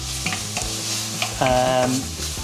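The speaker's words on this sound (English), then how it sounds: "Chicken and carrots are lightly frying now" Steady sizzling of chicken and carrots frying in a pan on a camp stove, with a utensil stirring and scraping through it and a brief tonal squeak partway.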